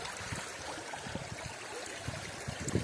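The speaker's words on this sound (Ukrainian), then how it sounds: "чекайте, воду злию" Water pours off a gold prospecting pan with a light, continuous trickling and splashing, close by and fairly soft, with no voices.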